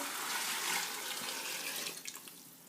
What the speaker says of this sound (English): I'm going to add a little bit more water there